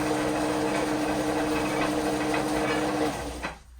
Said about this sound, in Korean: 기계가 알아서 풀을 칠해준다.